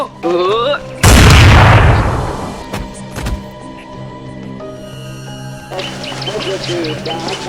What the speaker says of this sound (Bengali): তাহলে কিন্তু গুলি করে দিব